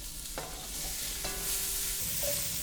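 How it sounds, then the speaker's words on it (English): Onions and mushrooms sizzle steadily in a hot pan, with a few scraping stirs near the start and middle; a constant bright frying hiss runs throughout, close and fairly loud, with no talking. "Immediately we want to get these onions in. Then we're going to add in the mushrooms."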